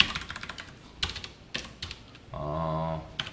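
Java code is typed on a computer keyboard in a few sharp, separate key clacks, close and distinct, with a short steadier buzzing stretch partway through.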